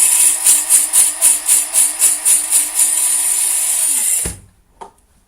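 Electric grinder finely grinding Colombian coffee beans, a loud high whirring buzz pulsing rhythmically for about four seconds before it winds down and stops, followed by a brief clack.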